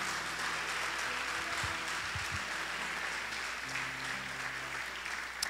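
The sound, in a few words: congregation applauding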